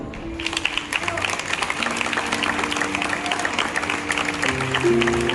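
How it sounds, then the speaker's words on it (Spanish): A festival commission applauds the children's fallera major at a Valencian falla proclamation, with dense sustained clapping from a crowd, loud and continuous, while music or sustained tones play underneath. "Demanem a tota la comissió un fort aplaudiment per a la nostra fallera major infantil, Andrea Vivó i Hurtado."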